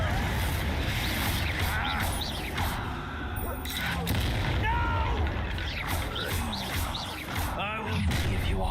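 Confringo blasting spell from Hogwarts Legacy, a game duel, bursting in repeated loud booms and whooshes within a dense, continuous battle din of spell effects and clatter.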